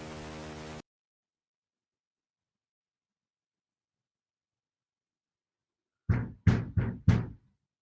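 Four firm knocks on a door by police officers, evenly spaced and fairly close, preceded by a short burst of static, with silence in between.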